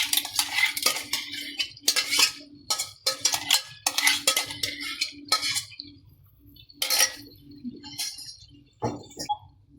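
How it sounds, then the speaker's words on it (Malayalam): Ground cashew paste being stirred into chicken pasta gravy in a pan, with repeated scraping and clinking spoon-against-pan strokes in bursts, fairly close and moderate in level, no talking. "ഇനി ഇത് നമുക്ക് നന്നായിട്ടൊന്ന് മിക്സ് ചെയ്യാം"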